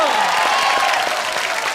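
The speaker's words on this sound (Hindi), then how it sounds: "धर्म जी के लिए जोरदार तालियां हो जाए" Studio audience applause for Dharmendra on a comedy show, a short burst of dense clapping and crowd noise with a rising and falling tonal swoosh over it and voices mixed in.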